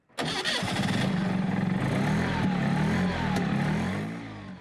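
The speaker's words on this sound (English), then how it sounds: "Humming underneath, almost like a turbine, was the 50-horsepower Wankel engine." A 50-horsepower Wankel rotary engine in a vintage NSU Spider catches and settles into a smooth, steady, turbine-like hum, loud and close with a slight rise and fall in pitch.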